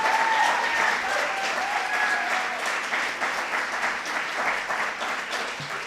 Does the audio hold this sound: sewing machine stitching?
no